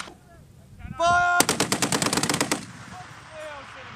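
Machine gun fire on a live-fire assault range with US Marines and Australian soldiers, a loud close burst of about a dozen rapid evenly spaced shots, preceded by a shout and followed by distant echoes.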